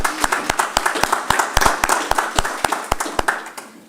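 Audience applause at a Cherokee Nation tribal council budget hearing, a run of sharp, uneven hand claps filling the room for a few seconds before tapering off, with no talk over it.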